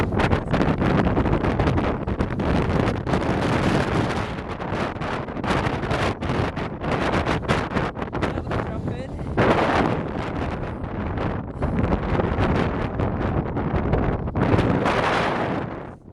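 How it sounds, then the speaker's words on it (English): Cold wind blows hard along a misty ridge on Snowdon in Wales, a loud, continuous rushing roar with gusts that buffet the microphone, swelling and dipping over time with no one speaking. "The wind along the ridge was bloody cold"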